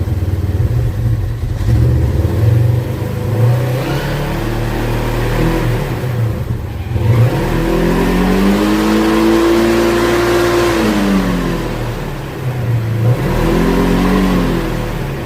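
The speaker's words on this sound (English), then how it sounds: "There, neutral. I'm getting some RPMs." A Vantage car engine revving in neutral, a loud, close, continuous drone that rises and falls in pitch through several rev swells, with no talking over it.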